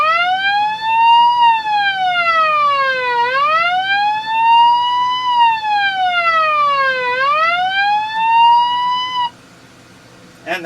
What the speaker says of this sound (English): Now, I had mentioned the SOS before. That's sort of like a siren.